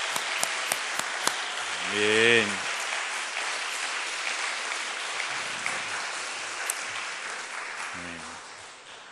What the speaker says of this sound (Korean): 우리 이사장님께 다시 한번 큰 박수로